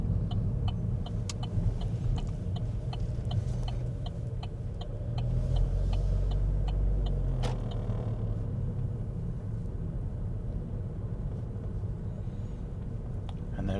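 Car engine rumbling steadily up close as the vehicle drives and turns left into a driving test centre in Middlesbrough, with faint rhythmic ticking through much of it and a brief swell in engine noise mid-turn.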